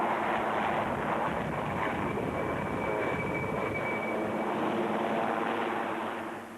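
Steady, loud rotor and engine drone of a helicopter during a military training exercise, a continuous roar with some wind buffeting that holds evenly throughout before easing slightly at the end.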